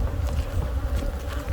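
Honeybees from four or five beehive frames make a steady, dense close buzz with a low hum underneath, continuous and without speech.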